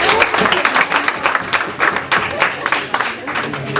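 An audience at a charity event gives a round of applause, dense close clapping throughout with a voice talking over it.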